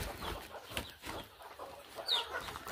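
Chickens clucking softly at a farm shed holding a few broody hens, faint short clucks scattered over a quiet background.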